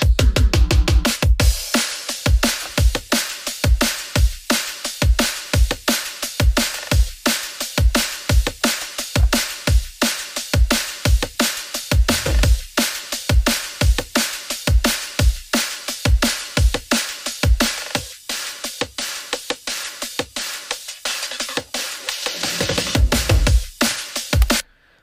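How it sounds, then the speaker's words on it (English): A drum and bass drum track plays on its own for about twenty-five seconds: fast, punchy kicks and snares in a driving, steady breakbeat rhythm, loud and dense, with no talking. "So the drums sound like this"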